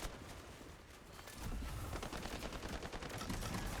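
Gunfire in the video game Highguard, a dense wash of rapid automatic shots that grows heavier and more continuous partway through, heard at a distance and fairly faint.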